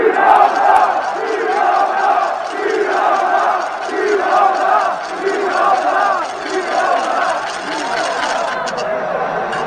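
A large ice hockey arena crowd in Düsseldorf roars and cheers for a favourite player being honoured at a farewell, a loud, sustained swell of voices with rhythmic chanting surges.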